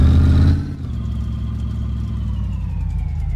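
A project car with fading brakes is driven slowly around to a suspension shop; its engine gives a heavy low rumble at first, then settles into a steady, moderate hum at low revs with no talking.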